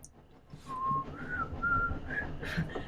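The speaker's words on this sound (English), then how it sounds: "That was terrible whistling." Someone whistles a short, wavering tune of a few sliding notes, close and fairly quiet, with faint background noise.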